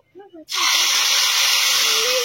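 Onion-tomato paste hits hot mustard oil in a kadai with five-spice tempering for a rohu fish curry, bursting into a loud, sustained hiss and sizzle right after a brief stretch of someone talking.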